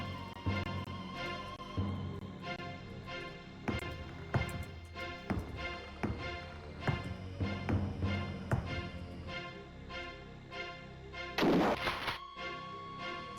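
Repeated booming gunfire from Alone in the Dark 3, roughly a dozen evenly spaced heavy shots, with one brighter crashing burst near the end; no voices.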